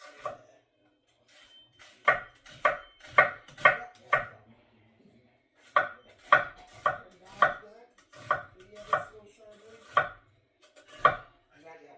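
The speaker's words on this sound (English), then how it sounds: "When I shred, I like to just go with the grain on this. and just work my way around the onion" A knife slices an onion into strips on a cutting board, giving crisp rhythmic chops in two quick bursts with a short pause between them. The chopping is near and fairly loud, with no talking.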